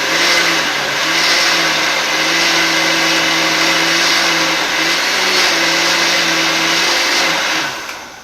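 A blender purees peaches for peach butter with a loud, steady motor whir that holds for about seven seconds, then cuts off and winds down.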